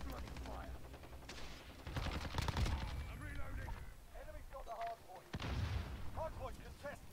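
Bursts of CR-56 AMAX rifle gunfire in Call of Duty: Modern Warfare, rapid cracking shots in clusters with a heavy boom, mixed under someone talking.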